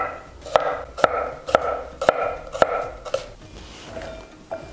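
A knife chops through a crisp cucumber on a cutting board, six or seven sharp, evenly spaced strokes with brief pauses, close up.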